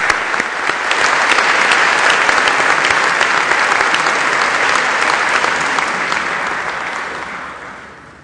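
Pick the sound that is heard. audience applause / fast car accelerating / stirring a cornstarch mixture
audience applause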